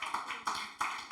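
A church congregation clapping in a steady rhythmic beat, three or four clear pulses of many hands together over a faint sustained tone.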